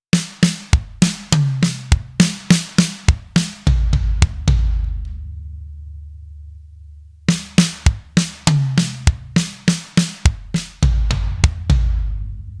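Drum kit playing a linear fill with the kick on the third part of the grid, rapid single strokes moving across drums and cymbals, then a crash ringing out before the fill repeats, close and loud without talk.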